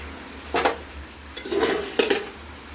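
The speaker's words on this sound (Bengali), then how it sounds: "দিয়ে এবার এটাকে ঢাকনা দিয়ে ঢেকে দেবো ঝোলটা ফুটার জন্য।" A metal lid is set onto a pot of thin hilsa fish curry with potato and green banana. Three short clanking and clattering bursts sound close by, with quiet pauses between them.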